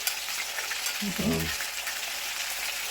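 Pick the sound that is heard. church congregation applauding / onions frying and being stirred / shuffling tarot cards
onions frying and being stirred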